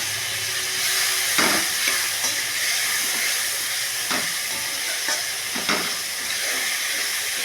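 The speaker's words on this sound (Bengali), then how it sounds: "মশলাটা ভালো করে কষা হবে" Spice paste with ground melon seed fries steadily in a pan for a hing soybean curry, a constant loud sizzle broken by several scraping strokes of a spatula, with no talking.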